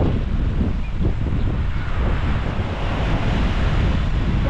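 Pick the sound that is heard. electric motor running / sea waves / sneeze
sea waves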